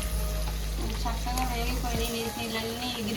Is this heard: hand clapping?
no